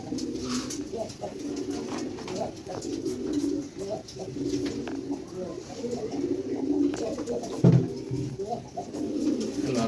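Pigeons and their chicks coo in a loft with small cages, a steady low murmuring chorus running throughout at moderate level, with one brief louder knock near the end and faint background voices.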